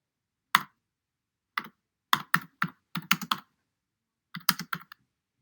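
Bursts of computer keyboard keystrokes in short uneven clusters, close and crisp, with brief pauses between groups and no voices.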